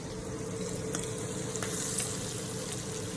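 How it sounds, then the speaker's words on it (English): Vegan not-so-salmon croquettes fry in oil in a pan, giving a continuous close, even sizzle with small pops, heard alone. "See how that's frying up?"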